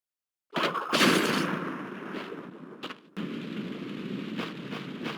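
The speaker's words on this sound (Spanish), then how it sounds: "El detonador de nitros también tiene un sonido interesante, una mezcla entre explosión y un vidrio rompiéndose" Nitro detonator effect from the Crash Bandicoot video game: a sudden explosive blast mixed with shattering glass, followed by rumbling debris, a brief dropout, then a second sustained crackling burst.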